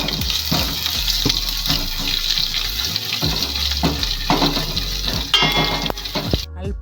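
Curry leaves, ginger and garlic fry in hot oil in a pan while masala dosa filling is made, giving a loud, continuous sizzling hiss with scattered crackles and pops that stops abruptly at the end.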